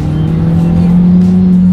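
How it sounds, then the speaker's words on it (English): A 2019 Hyundai Elantra Sport's exhaust drones loudly as the car accelerates, a steady low engine hum with a rising pitch, heard close and continuous from inside the cabin. "I will say, I do like the exhaust noise when you punch this thing a little bit though."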